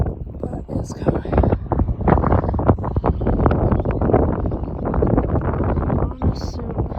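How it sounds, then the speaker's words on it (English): Strong, gusting wind buffets the microphone outdoors in Alberta as a severe thunderstorm with possible hail approaches, a loud continuous roar and rumble with rustling bursts throughout, under a person talking. "And you can probably hear, I see that it's really windy."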